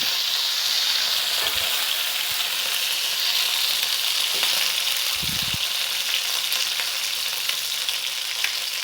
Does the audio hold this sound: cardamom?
yes